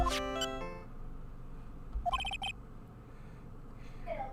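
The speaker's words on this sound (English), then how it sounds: "What kind of ringtone is that?" A mobile phone ringtone plays two short melodic bursts, the first near the start and another about two seconds later, fairly close and clear over a quiet background.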